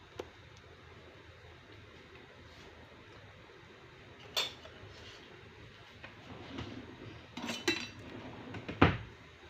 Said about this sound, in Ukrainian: Я їх ложечкою так трошки підважу знизу, щоб вони не пристали до кастрюльки.